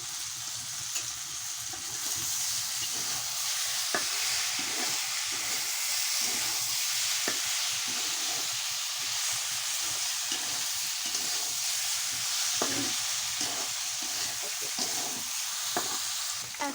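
Food fries in a pan with a constant, close sizzle, broken by regular soft scrapes and clinks as it is stirred, all without talk.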